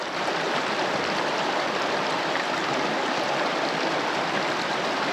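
Creek water flows in a steady, loud rushing wash close by, continuous and uninterrupted with no voices.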